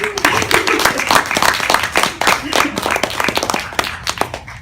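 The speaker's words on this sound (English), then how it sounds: "So, if you guys want to applaud these amazing people." Audience applause for panelists at a music expo panel, dense clapping with sharp individual claps throughout, fairly close and steady.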